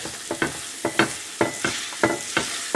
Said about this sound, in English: we cook it on medium flame in the ghee until this mixture becomes pliable enough